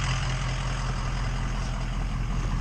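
A Ford F250 pickup with a 6.0 Powerstroke diesel engine idles steadily and close by, a deep, even rumble with no talking over it.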